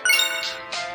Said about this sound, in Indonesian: tiba-tiba telepon bimbit Stefan berdering